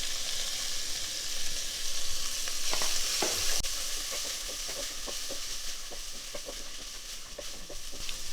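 Chicken added to a pan of lightly browned ingredients for chicken fried rice, fried with a loud, steady hissing sizzle and occasional knocks and scrapes of a spoon, close and with no talk.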